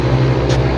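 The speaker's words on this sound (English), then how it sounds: "Motorbike going past, noisy bleeder." A noisy motorbike passing a remote cabin building site, heard as a loud, steady engine drone close by for under a second.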